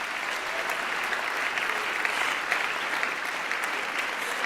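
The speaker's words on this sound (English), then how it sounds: "Please give them a huge round of applause." An audience at a Beethoven-meets-Afrobeat concert applauds the performers, a dense, steady wash of many hands clapping at an even level for the whole stretch.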